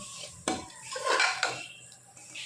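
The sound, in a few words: stirring spice masala into chicken in a pot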